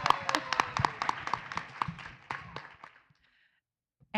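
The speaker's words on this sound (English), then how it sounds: "Let's clap it up." A panel audience claps in a scattered round of applause, individual hand claps distinct and fairly close, thinning out and fading to silence toward the end.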